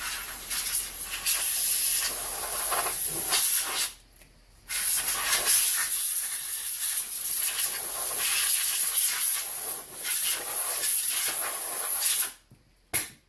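Compressed air blasts loudly to clean rear brake parts on a 2012 Nissan Pathfinder, a harsh continuous hiss running in long bursts with two brief pauses, close to the listener.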